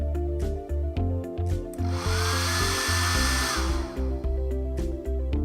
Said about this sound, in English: So this is the hair dryer button.